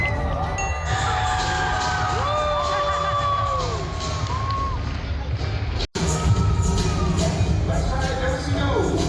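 Crowd at an outdoor dog show cheering and whooping, with children's shouts and high voices rising over a steady babble; the roar runs throughout with a brief dropout near the middle.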